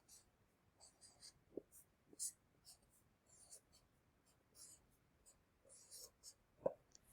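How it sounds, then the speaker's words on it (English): Pencil or pen writing a name by hand on paper, soft scratchy strokes in short bursts with faint breathing and a few small taps, quiet and close. "So I'm going to write my name."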